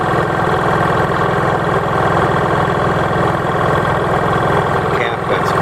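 A Honda EU3000is inverter generator on a custom cart runs at a steady, loud idle, its engine drone close and continuous throughout with no pauses.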